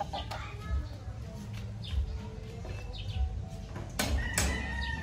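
A pet chicken clucks in short, soft calls at close range, with people talking over and around the sounds.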